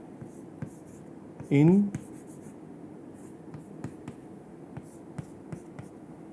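Chalk or marker writing on a board during a physics lecture on symmetric bending modes, heard as faint scratchy strokes under quiet background noise, with a brief burst of speech in the middle.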